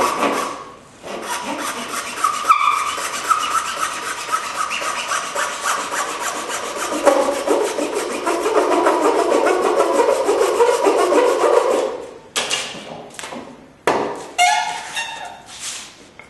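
A dovetail saw rip-cuts wood with a long run of close, rasping back-and-forth strokes, followed by a few separate short bursts of sawing and light knocks near the end.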